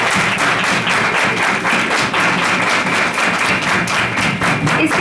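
Loud applause at a school's annual prize distribution, rhythmic clapping from a close crowd with a regular pulsing beat running through the whole clip.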